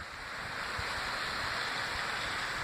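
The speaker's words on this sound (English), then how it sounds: "I don't know if you can hear the sound of the stream, but it's down there." A mountain stream flows below a hillside path, a steady broad rushing wash heard from a distance, constant and moderately loud with no voices.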